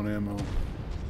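An artillery emplacement blows up in the MechWarrior 5 mech combat game, a rumbling explosion with crackling debris that follows a brief voice.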